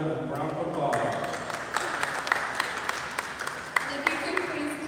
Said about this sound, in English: Team Icy Hot, let's give her a round of applause.